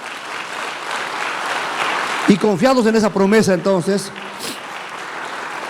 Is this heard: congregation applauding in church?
yes